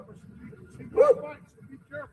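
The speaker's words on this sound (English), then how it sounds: "Is that your dog?" A dog gives a short bark or yip in the middle, with a smaller whine after it, heard under people talking nearby in an outdoor setting.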